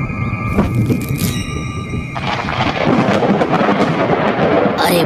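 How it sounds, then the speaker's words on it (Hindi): Thunder rumbles and cracks loudly and close by, then rolls into a steady broadband roar as rain begins to fall, with no voices present. "लगता है बारिश होने वाली है।"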